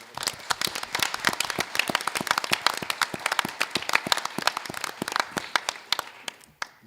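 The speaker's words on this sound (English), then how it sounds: "Give Gracie a round of applause." Scattered applause at a school board meeting honoring students, a modest group clapping with distinct, irregular individual claps that thin out and stop.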